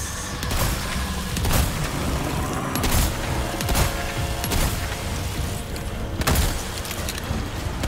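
Dense, loud video game gunfire rattles almost continuously in Resident Evil 4 Remake, with bursts of heavier booming shots punctuating the steady barrage.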